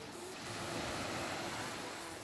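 Ocean waves wash steadily onto a seashore at low tide, a continuous broadband roar of surf with light wind noise, heard alone and fairly close.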